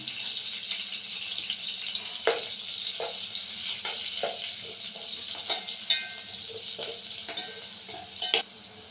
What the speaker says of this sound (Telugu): బాగా ఆయిల్ మధ్యలో కలుపుకోవాలి వన్ టేబుల్ స్పూన్ పసుపు యాడ్ చేసుకుంటున్నాను